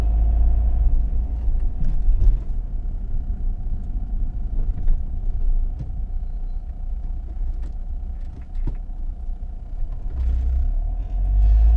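Road traffic rumbles around a moving car, a steady low engine and tyre drone with occasional louder swells as vehicles pass, heard from inside without any voices.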